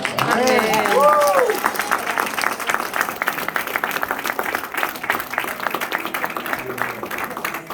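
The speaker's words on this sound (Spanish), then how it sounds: "Le damos otro aplauso al Señor, hermanos." A church congregation claps in sustained, dense applause, loudest at first and then continuing steadily, with a voice speaking over the opening seconds.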